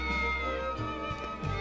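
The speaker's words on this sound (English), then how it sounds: "Oh, there's a cat." Cat meowing inside the video game Triangle Strategy, a couple of short meows rising over steady game music and ambience, fairly clear and close, no talking.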